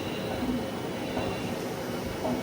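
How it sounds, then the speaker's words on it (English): A Hurco TM-10 CNC lathe turning center from 2008 runs its spindle with a steady, dense mechanical whir and hum. The sound holds even and unbroken throughout, with faint tonal lines riding over the broadband machine noise. "Go ahead and run the spindle."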